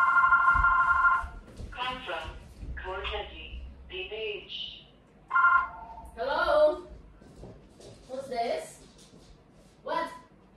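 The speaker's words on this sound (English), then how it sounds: "Someone is calling again." A telephone rings in a home kitchen during fried dumpling cooking, sounding in two short bursts about five seconds apart, with people chatting between and over the rings.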